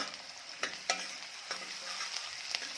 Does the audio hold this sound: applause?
no